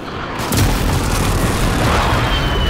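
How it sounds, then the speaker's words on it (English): Enemy precision airstrike in Call of Duty Modern Warfare: one loud, deep boom hits and then rolls into a sustained rumbling roar that fills the rest of the moment. "Enemy precision airstrike."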